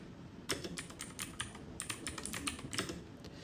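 Steady typing on a computer keyboard, with rapid clustered keystrokes clicking close by over a faint background hiss and no voices.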